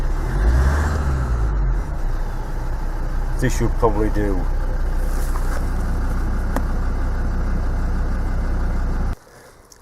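Land Rover Discovery 2 TD5 diesel engine idling to warm up before an oil and filter change, a low steady rumble under someone speaking briefly, which cuts off sharply near the end.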